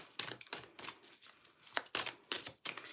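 Playing cards being shuffled during a card reading, a quiet series of crisp riffling bursts with short pauses between them, close and fairly soft.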